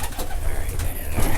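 Young pigeons out of their loft give low, soft cooing and bird calls over a steady, muffled outdoor rumble, close by and continuous with no one speaking.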